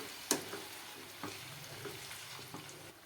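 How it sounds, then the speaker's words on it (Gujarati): Sweet potato and potato pieces fry in hot oil for undhiyu, a steady soft sizzle with faint bubbling, punctuated by a sharp clink and a few quiet stirring scrapes, close and low in level. "હવે આપણે તેલમાં સકરિયાના ટુકડા પણ નાખી દેશું, કેમ કે એને પણ આપણે તળી લેવાના છે"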